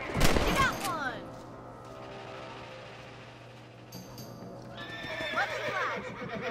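Horses in the Red Dead Redemption game give a loud whinny at the start, then hooves clop steadily at a gallop, and another neigh rises near the end.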